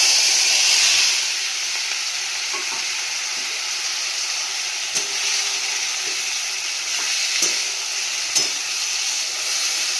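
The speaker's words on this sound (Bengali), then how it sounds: "তেল গরম হয়ে গেছে, এবার পেঁয়াজটা ছেড়ে দেবো।" Onion drops into hot oil already tempered with dried red chilli, giving a continuous, moderate frying hiss close by, with a few faint clinks and taps scattered through it.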